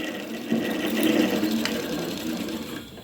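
A sewing machine winds a nearly full bobbin with a steady close whirring hum that carries on without a break.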